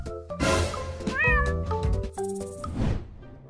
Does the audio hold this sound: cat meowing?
yes